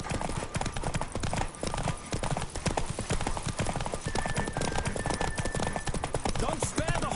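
Hooves of a galloping horse during a race in the video game The Witcher 3, a fast, steady clip-clop rhythm throughout, fairly close and loud, with a brief tonal game sound partway through.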